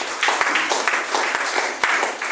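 A crowd at a gathering claps in a brief, dense burst of applause, a steady wash of many hands lasting a couple of seconds.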